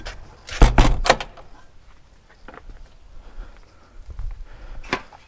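A wooden shed door is swung shut, giving a loud burst of knocks and rattles near the start, then quieter shuffling and a final thud, with no talking.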